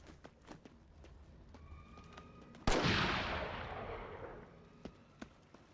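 A single loud, sharp sniper shot in a war video game, its long echoing tail fading over a couple of seconds, with faint clicks and distant shots around it.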